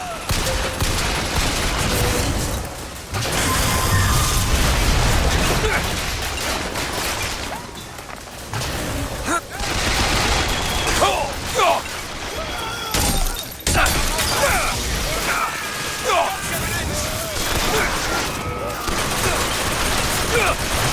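Rockets fire and explode during a BioShock Infinite firefight, with bursts of blasts and rapid gunfire cutting in and out over a noisy battle while voices talk through the action.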